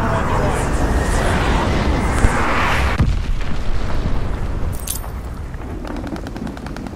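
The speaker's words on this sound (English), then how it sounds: "Ally Clyde bomber on the way" Allied bomber airstrike explosions in a combat video game: dense rumbling booms and bursts pile up in a continuous loud roar, with sharp crackling hits and voices faintly underneath.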